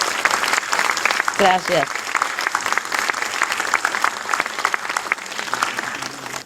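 Audience applause at a Spanish-language book launch in Lima, Peru, sustained crowd clapping with a short spoken thanks and scattered voices over it.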